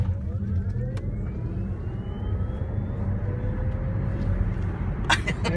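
A Tesla electric car accelerates hard on Route 66, its motor whine sweeping steadily upward in pitch over a constant rumble of road and wind noise, with a few sharp knocks near the end.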